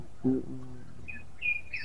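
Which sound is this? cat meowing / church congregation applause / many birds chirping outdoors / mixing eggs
many birds chirping outdoors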